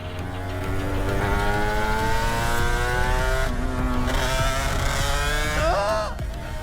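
Aprilia RS 125 two-stroke motorcycle engine held high in the revs, a loud, continuous buzzing wail with rising harmonics as it climbs and shifts, close and steady with no talk over it.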